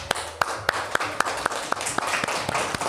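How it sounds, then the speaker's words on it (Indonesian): Schoolchildren in a classroom clap in unison for a group, about ten sharp, evenly spaced claps over roughly three seconds, close and clear above a soft room murmur. "tepuk tangan untuk kelompok 6"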